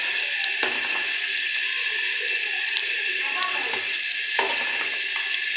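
Chopped onions fry in hot oil for a dried-fish bhuna, a loud, constant close sizzle with stirring scrapes and brief bursts as the pieces hit the pan.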